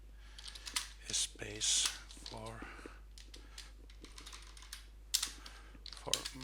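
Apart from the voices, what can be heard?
typing on a computer keyboard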